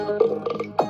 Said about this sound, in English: I didn't mean to burp.